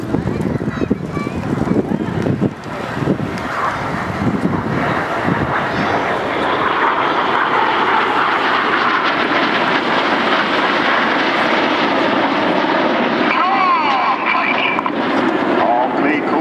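Red Arrows jets flying an aerobatic display at the Bournemouth Air Festival 2018: a loud, sustained roaring jet engine rumble that swells and holds steady, heard outdoors under continuous commentary.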